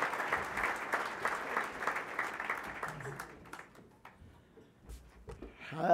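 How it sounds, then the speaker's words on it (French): An audience claps for a speaker at a union retirement seminar, with dense applause in the first half that thins into scattered claps and fades, followed by a few stray noises and a voice starting at the end. "Donc, on l'applaudit."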